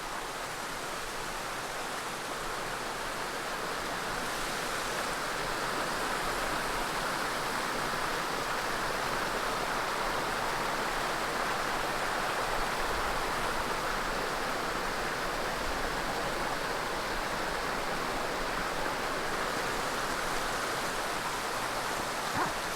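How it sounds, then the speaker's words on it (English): Little Cascade Falls, a gorge waterfall on Mt Ascutney in Vermont, pours with a steady, dense roar of rushing water, constant and close, with no voices over it. "just leaving Little Cascade Falls right now, this gorge waterfall."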